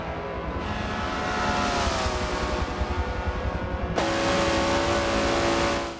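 A race car engine in a Forza racing game, running at high revs with a sustained whine, rising in pitch and then jumping up sharply after a gear change, loud and close with no speech.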